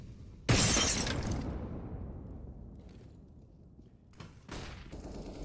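A grenade bursts with a loud, sharp blast in a Counter-Strike match, its roar trailing off over a few seconds, followed later by a second nearer crack and clatter.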